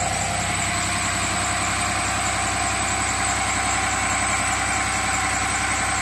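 A Cummins 6.7 turbo diesel running on HythanolPLUS fuel holds a steady, loud idle around 1280 RPM, a continuous close rumble with a constant high whine above it.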